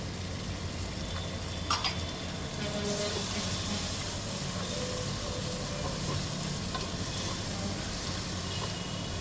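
Ginger garlic paste sizzles in a pot for Ambur chicken biryani, a soft continuous frying hiss with a few faint clinks of stirring, nothing else over it.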